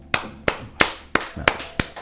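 A small audience at a student union (BDE) presidents' event claps in a few sharp, separated bursts, roughly seven distinct slaps spaced unevenly, close and fairly loud, with no talk over them.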